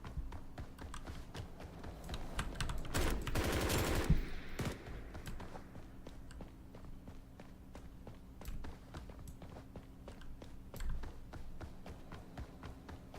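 Rapid automatic AK5 rifle fire in the shooter game Blackhawk Rescue Mission 5 rattles in a dense burst of sharp shots, followed by scattered single cracks and footsteps at moderate level.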